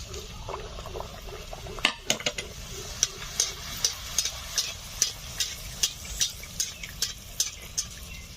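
Crackling and sputtering of luchi frying in hot white oil in a kadai, with regular sharp pops over a steady sizzle and faint clinks of utensils.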